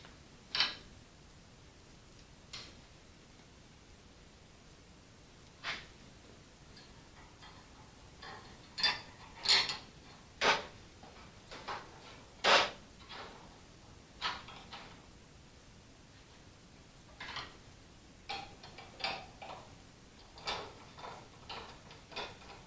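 Scattered sharp metallic clicks and ticks from a wrench or ratchet tightening hood strap screws on an Allis Chalmers WD45 tractor, irregular bursts close by with quiet gaps between, no talking.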